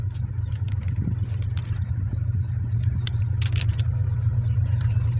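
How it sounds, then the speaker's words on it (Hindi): A vehicle close by near a railway track, giving a steady low engine rumble and idling drone with faint clattering ticks above it, constant in level throughout. "ये हमारे करीब ही आ गई है दोस्तों गाड़ी।"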